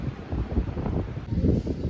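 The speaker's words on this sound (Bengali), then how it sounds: "এত রোদ বাট এত সুন্দর হাওয়া দিচ্ছে" A breeze blows across the microphone at a beach resort in Mandarmani, a continuous low rushing rumble with soft gusts and no voices.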